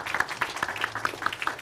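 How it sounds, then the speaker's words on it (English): A brief stretch of audience applause, scattered claps in a quick irregular patter at moderate volume. "Another round of applause for Peter."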